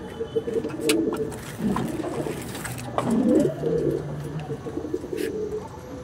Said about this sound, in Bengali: এটা কিন্তু লাল ফুল পায়রা